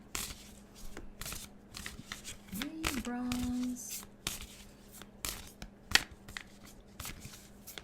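Tarot cards being shuffled by hand, with repeated riffling and bursts of card flicks through the clip alongside a faint tone.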